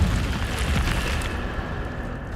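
A fiery Incendio spell from Hogwarts Legacy erupts in a dense, roaring burst that holds steady and loud for a couple of seconds, with no voices over it.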